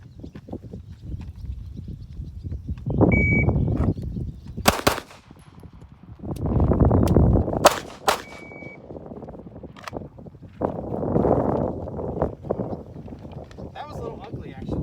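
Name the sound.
pistol fired twice, magazine change, two more shots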